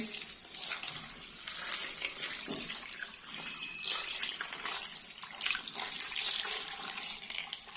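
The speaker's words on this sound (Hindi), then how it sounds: "अब इसके साथ ही हम इसमें पानी ऐड करेंगे भर के" Steady broadband rush of running water filling a pot, continuous and fairly close, with faint clatter underneath.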